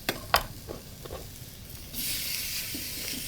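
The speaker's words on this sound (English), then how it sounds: "That's a nice sizzle" Cubed steak is laid into a hot frying pan: a few close clicks and taps, then a steady, loud sizzle that holds on to the end.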